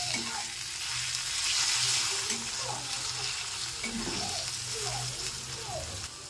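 Spice masala frying in a pan while being stirred and mixed with ground black pepper: continuous sizzle with scraping spoon strokes, close and steady, with a faint voice now and then underneath.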